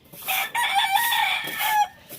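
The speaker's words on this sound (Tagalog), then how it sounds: "Pinapainom ni Tate Ikar ang kanyang mga manok" A rooster crows loudly and close by, a long wavering call, with clucking chickens around it.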